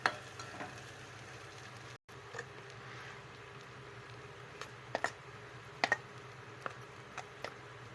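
Ginger garlic paste being stirred in a frying pan for an egg tomato curry makes a faint, steady sizzle broken by scattered light ticks and scrapes from the spoon, with no talking.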